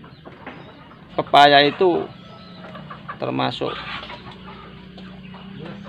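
Free-range village chickens on a small farm cluck in two short, close bursts, with a person talking over and between them.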